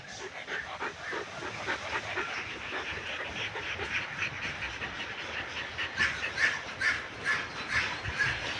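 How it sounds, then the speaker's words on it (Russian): Dogs at a crowded shelter housing dozens of animals bark and pant in a restless, overlapping chorus, some close and some farther off, growing louder toward the end. "Сегодня я показываю другую передержку, где у меня живут 57 собак."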